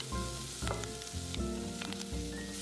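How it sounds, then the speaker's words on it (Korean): Onion stir-fries with minced garlic in a pan, making a quiet, steady sizzle layered with low humming tones and soft scraping as it is stirred. "양파 넣고 볶아줍니다."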